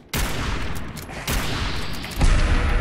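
Gunfire in the video game Fallout 4 on survival difficulty erupts in loud, dense bursts, with several booming shots and rattling volleys overlapping close by.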